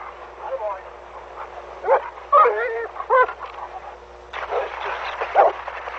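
A dog by a lake in a national park gives short, close yips and whimpering whines in scattered bursts, mixed with people talking nearby.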